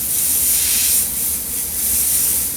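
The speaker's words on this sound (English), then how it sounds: "I'm going to spray paint onto it, and it's going to splatter off into a nice, like, stippling, splattery effect" Paint hissing steadily from a spray tool at a wooden clothespin to splatter a stippled effect, a close, continuous airy spray with slight swells, no talking.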